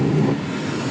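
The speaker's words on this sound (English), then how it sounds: "there goes the blower" A Carrier rooftop HVAC unit's blower fan runs as a steady, loud broadband whoosh with a low rumble, close and continuous with no talking.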